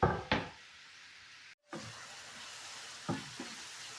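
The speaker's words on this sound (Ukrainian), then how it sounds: "гриби смажаться" Mushrooms frying in a pan, a soft steady sizzle broken by a few sharp knocks and clatters of utensils, near and quiet with no talking.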